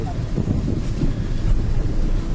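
Loud, steady low rushing roar of a flooded river near a bridge mixed with wind buffeting the microphone, continuous throughout.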